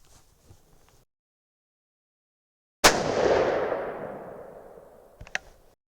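Military surplus rifle firing a single handloaded round (41 grains of H4895), one loud sudden blast at close range with a long rumbling decay that fades over a couple of seconds after a stretch of silence.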